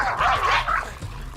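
A police dog barks and yelps in a rapid, excited string of high-pitched calls, close and loud over a low rumbling background.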